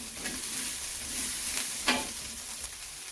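Chicken spring roll filling seasoned with red chili flakes and white salt is stirred in a hot pan, a steady sizzle with soft scraping strokes and one sharper clink near the middle, no voices.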